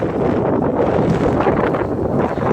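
Strong wind roars across a bald mountaintop summit in Pisgah National Forest, a steady, loud, buffeting rush against the microphone with no voices.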